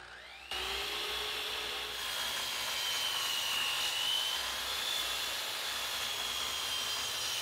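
A miter saw cross cuts plywood inserts to length against a stop block, its motor kicking on abruptly and holding a loud, steady whine with a rising tonal edge as the blade passes through.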